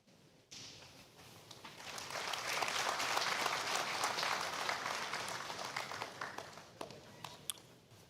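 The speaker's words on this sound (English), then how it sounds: "request that applause be placed at the end of each citation" Applause at a swearing-in ceremony for ministers of the Federal Republic of Nigeria, starting abruptly and swelling into a broad, sustained wash of clapping from a large hall audience, then thinning out toward the end.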